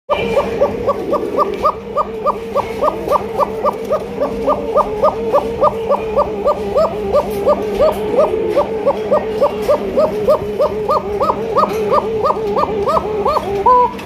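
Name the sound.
white top spangle coca pigeons cooing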